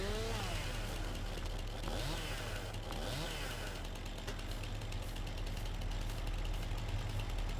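A small tractor engine in Farming Simulator 22 chugs steadily throughout with a rough, continuous idle and some harmonic whine, loud and close with no talking.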